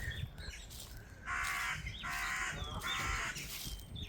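Crows caw from trees outdoors, three drawn-out harsh calls in a row at moderate distance, with fainter chirps from other birds in the background and no talking.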